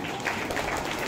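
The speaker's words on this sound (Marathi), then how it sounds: "सर्वांनी जोरात टाळ्या वाजवायच्या आहेत" Audience applause at a Guru Purnima program of an educational institution, steady dense clapping throughout, moderately loud and without talk.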